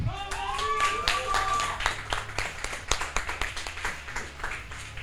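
Applause for the winning team at an interhouse e-gaming tournament final, a burst of sharp hand claps rising and tapering over several seconds, with a voice and cheering tones at the start.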